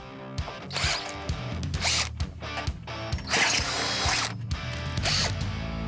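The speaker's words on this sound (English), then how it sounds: "It's just the material we're trying to drill through, I think. Stainless steel is hard" A power drill whines in bursts, revving and grinding against hard stainless steel with brief pauses between, close and loud.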